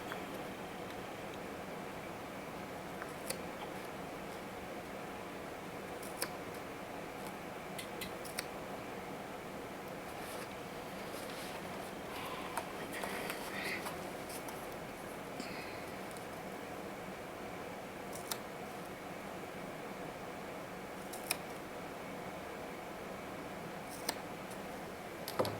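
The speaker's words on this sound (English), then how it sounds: "I'm running my little thread scissors doing this" Small thread scissors trimming fabric for a tote bag, giving sparse, faint, crisp snips spread out over a steady quiet room hiss.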